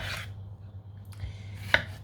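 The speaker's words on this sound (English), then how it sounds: "You're just chopping up the tomatoes" Fresh tomatoes being chopped with a knife, a few soft, close cuts over a low steady hum, with one sharper knock near the end.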